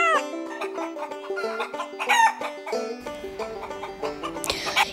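Chickens cluck and squawk busily, several birds calling over one another up close, with a rooster-like crow rising near the end.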